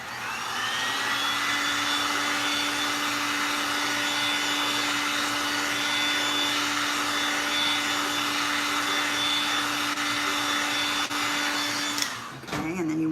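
A heat gun blows hot air steadily onto glue while a Goodwill cross is being refinished. It makes a loud, continuous whooshing roar with a faint whine for about twelve seconds, then cuts off abruptly with a brief clatter.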